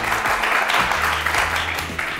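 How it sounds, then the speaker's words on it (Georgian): Warm applause from a studio audience at a Tbilisi school quiz show, steady close-up clapping that holds at an even level for a couple of seconds. "ასე ხურვალე აპლოდისმენტები დაიმსახურეთ, ხო?"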